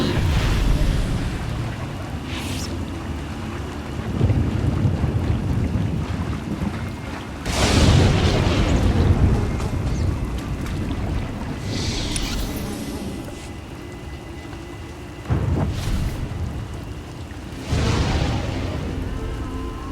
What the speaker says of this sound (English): The storms are fierce today.